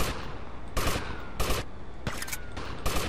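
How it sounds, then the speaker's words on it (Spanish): Gunfire in GTA Vice City, a run of loud sharp shots spaced irregularly over a dense constant background din, about five or six distinct reports. "no sé si le disparé"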